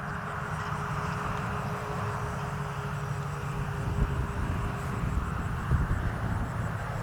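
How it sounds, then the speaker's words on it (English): A stock-setup RC OV-10 Bronco twin-engine warbird model makes a full-throttle takeoff, a steady loud motor drone with broadband wind rush that holds through the whole stretch and swells slightly near the end. "That was a full throttle takeoff too"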